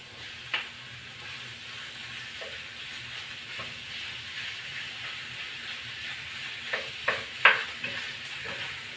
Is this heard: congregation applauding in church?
no